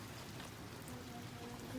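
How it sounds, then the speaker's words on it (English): Steady rain falls outside a family home, an even hiss that fills the whole short stretch, with no voices heard over it. "It's raining."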